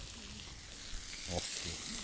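Food sizzles quietly in pans over a portable folding wood fire pit at a campsite, a soft, continuous frying hiss with faint stirring clinks.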